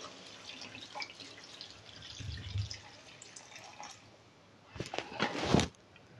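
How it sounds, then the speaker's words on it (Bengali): Water pours into a pan of egg and cauliflower curry after the spices are fried, a soft running trickle that swells into a louder splashing pour near the end. "এবার জল দেবো সেদ্ধ করার জন্য"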